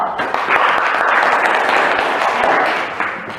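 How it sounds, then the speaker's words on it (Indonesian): A classroom of students claps for a presenting group, a short burst of dense applause swelling and then tapering within a few seconds. "tepuk tangan untuk kelompok 1"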